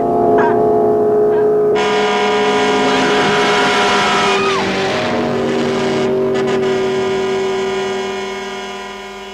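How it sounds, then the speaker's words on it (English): A car engine from a killer-car film excerpt rumbles and drones steadily, swelling louder before fading toward the end, with a brief voice near the start. "Wade, I think I hear the engine of that damn car"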